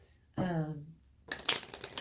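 A deck of tarot cards is riffle-shuffled up close, giving a crisp, fluttering burst in the second half that follows a short voiced sound.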